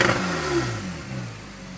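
A 2015 Porsche 911 Targa 4 GTS with sport exhaust revs briefly, a close, loud engine note rising then easing off-throttle over under two seconds, with no voices.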